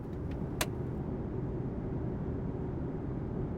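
A car creeps slowly along a crowded Kamakura street in a video game, its engine a steady, low rumble that fills the whole stretch, with a brief faint click near the start.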